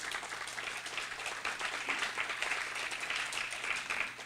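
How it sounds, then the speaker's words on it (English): An audience at a women's leadership peace convention claps for the host in a steady, fairly soft round of applause that holds evenly throughout. "Let's give her a round of applause."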